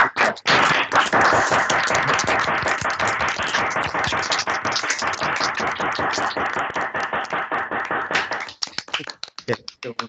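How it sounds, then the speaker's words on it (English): Online audience unmuting to give a round of applause at a science talk, many mixed claps over a video call filling about eight seconds, then thinning to scattered claps. "Could I invite everybody to just unmute themselves just to give Daniel a round of applause?"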